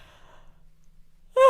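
Near silence with faint low hum, then a sudden, loud, breathy yawn-like exhale bursts in right at the end during a choir warm-up session.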